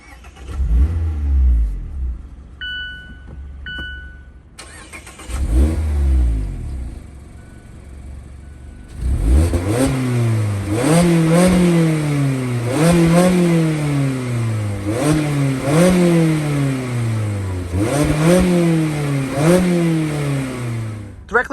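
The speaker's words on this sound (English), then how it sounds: "all you have to do to fire this thing up, because it's a 6-speed manual, put your foot on the clutch, make sure it's in neutral and hit the button" A 2025 Mazda Miata Club ND3 with a six-speed manual starts with a quick crank and catch, then settles before a run of repeated sharp revs that rise and fall in a steady rhythm, loud and close, with no talking.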